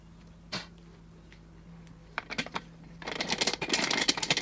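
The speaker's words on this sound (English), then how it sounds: "It's now time to let all the air out of the pot and see how it looks." Air vents out of a resin-casting pressure pot in a burst of broad, hissy noise that builds over the last second and a half, following a few scattered clicks and taps in a quiet room.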